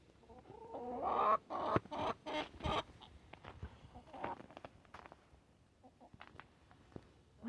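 Chickens and roosters on a homestead, with clucks and squawks close by over a low outdoor background, some footstep-like scuffs mixed in, moderately quiet overall.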